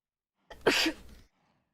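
A single short, close sneeze bursts out sharply from a quiet background, with a breathy tail trailing off and no other sound around it.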